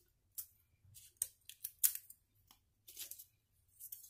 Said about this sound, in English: So take your scissors and kind of trim them up a bit.